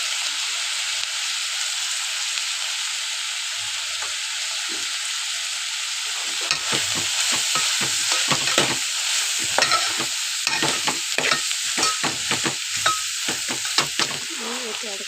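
Onion with coriander powder and red chilli powder sizzling in a pan, steady frying hiss throughout, joined midway by frequent scraping stirs of a spatula, close and fairly loud with no talk.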